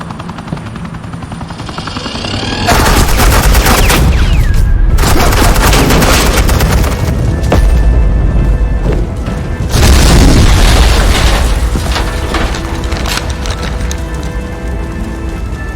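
Heavy suppressing gunfire erupts in Batman: The Enemy Within, sustained loud automatic bursts and booming impacts with a helicopter-like roar, after a quieter opening stretch.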